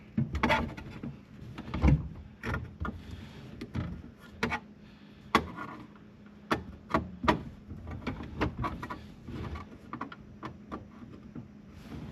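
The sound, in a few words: removing the ashtray from a 1978 Datsun 620 dashboard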